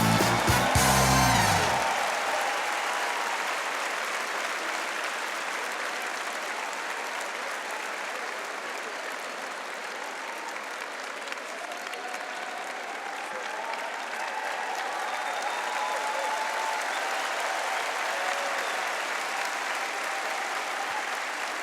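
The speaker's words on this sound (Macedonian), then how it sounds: "Она аплауз да го чуем." Audience applause at a live televised show, a dense sustained wash of clapping from a large crowd that carries on steadily for about twenty seconds, loud and continuous with no talk over it.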